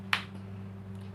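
A single sharp hand slap squashes a blood-fed mosquito, one crisp smack near the start over a quiet hum, then silence.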